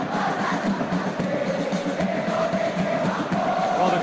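A football stadium crowd at an AFC Champions League Two group-stage match between Persib Bandung and Selangor gives a steady, dense roar of cheering that holds at one level throughout, with no distinct voices on top.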